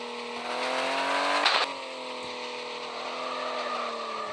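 A car driving fast, a close engine drone with rising harmonics as it accelerates, a brief louder surge, then a steady hum as it cruises.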